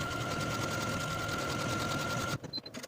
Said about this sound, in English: you're going to sew a horizontal buttonhole right in the middle top edge of